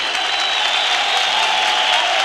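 A concert audience at Gülhane applauds for a performer receiving a plaque, a loud, even roar of many hands clapping that holds steady, with a faint tonal voice or music line beneath it.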